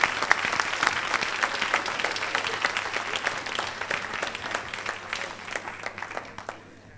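At a teachers' association annual conference in Jamaica, the hall breaks into applause welcoming the minister, many distinct claps in a close, lively burst that gradually fades out over seven seconds.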